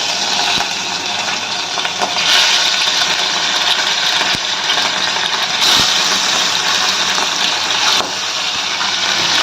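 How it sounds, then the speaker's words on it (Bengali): Small puti fish frying in hot oil, a steady broadband sizzle and gush that holds loud and continuous throughout, with a few brief crackling spikes and no talk. "এবার আমরা একে একে পুঁটি মাছগুলো তেলেতে ছেড়ে দেব"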